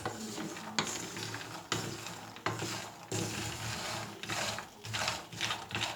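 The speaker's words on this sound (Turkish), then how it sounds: "Sürekli de karıştırıyoruz arkadaşlar ara vermeden orantılı kavrulması için" Osmaniye peanuts roasting in a pan over low heat and stirred without pause, a continuous dry rattling scrape with steady sizzle and repeated sharp strokes, close and alone.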